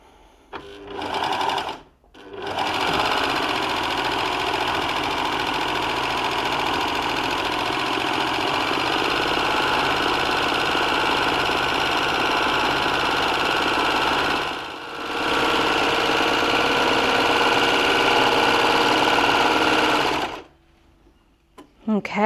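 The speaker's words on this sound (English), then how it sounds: "So I'm going to grab my fabric and sew the wave stitch." A baby lock Enlighten overlocker sews a decorative wave stitch on fabric, its fast, even mechanical whir running steadily for long stretches, pausing briefly once, with short quiet gaps at the start and end.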